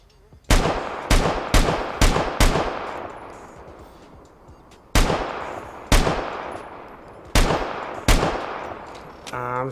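SVD rifle shots in the game Vigor ring out one after another: a quick run of five, then a pause, then several more spaced shots, each loud with a ringing tail.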